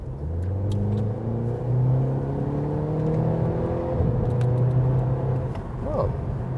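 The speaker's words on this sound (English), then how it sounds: "So in the sport mode now, and that means when I push the throttle right now" A Mercedes-AMG A45 A-Class engine accelerates in sport mode, a steady, loud, rising drone from inside the car that climbs through gears for several seconds with slight dips between shifts.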